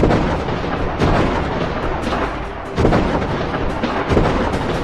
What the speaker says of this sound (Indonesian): Suara tembakan bergemuruh, mengisi udara dengan ketegangan.